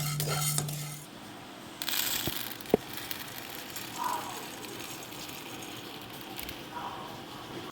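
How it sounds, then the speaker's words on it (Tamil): Toor dal roasting in a pan over a low flame is stirred with a spoon, giving scattered metallic scrapes and clinks with soft rustling of the lentils in between, fairly close and without speech. "அதையும் எடுத்து நல்லா கொஞ்சம் கலர் சேஞ்ச் ஆகிற அளவுக்கு நல்லா வறுத்து எடுத்துக்கலாம்."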